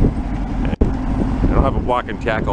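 Gusty wind buffets the microphone with low rumbling bursts while someone talks over it beside a home-built tractor, and a brief dropout breaks the noise.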